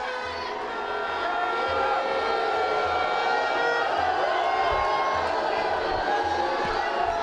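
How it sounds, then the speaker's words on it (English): A football stadium crowd at a Brunei DPMM versus Hougang United match reacts unhappily to a penalty decision, giving off a dense, steady roar of jeers and shouts that carries from a distance throughout. "Well, the crowd's not happy."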